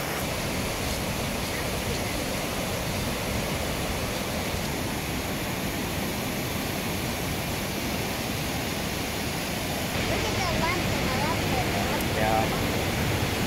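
Steady broadband rush of falling water, constant and moderately loud, like a waterfall heard from nearby, with faint voices underneath.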